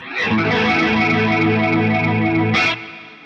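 Sustained electric guitar chord through a Boss Katana amp's mono rotary effect, the sound pulsing and warbling before stopping abruptly near the end.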